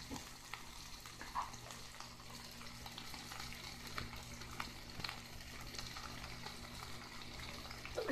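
A taco topped with cheese fries in a covered pan, giving a steady, close sizzle and crackle with small pops throughout and no talking.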